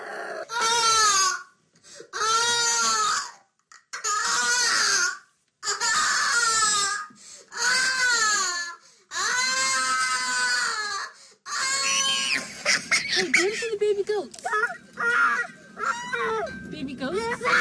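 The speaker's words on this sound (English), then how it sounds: "tantrums came in waves, several times a day, lasting sometimes up to 4 hours." An autistic child cries during a tantrum, with loud wailing sobs coming in repeated long bursts separated by short pauses, then turning into broken, choppier whimpering and sobbing with some background noise.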